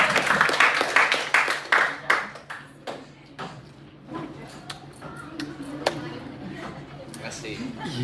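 A small group clapping in a classroom presentation, a short burst of scattered applause that thins into sparse individual claps with voices talking over it.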